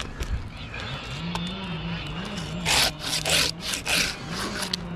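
A handsaw cuts through white pine wood during a tree takedown, with a cluster of rasping back-and-forth strokes in the middle over a low, steady background hum.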